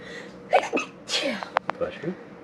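Person sneezing once, sharp and close, in a home kitchen while food is prepared for dehydrating; a voice is heard around it along with a couple of light clicks.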